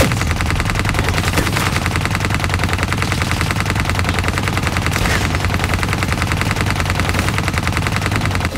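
Sustained rapid minigun fire from Call of Duty Black Ops 3, a continuous loud mechanical roar of gunfire running unbroken for the whole stretch.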